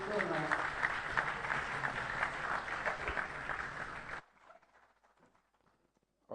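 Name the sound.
audience applause at conference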